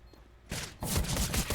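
Gunfire in a Counter-Strike match in the CSL Star League, a quiet lead-in followed by sudden bursts of rapid close shots, the second volley sustained and louder.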